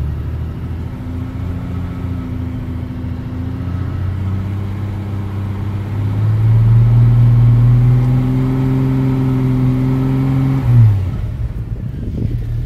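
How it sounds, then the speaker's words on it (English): A car engine fitted with a wideband air-fuel sensor hums at a steady idle, then rises in pitch and loudness as the idle is raised. It holds the higher speed briefly before dropping back abruptly near the end. "All right, and then we'll try raising the idle."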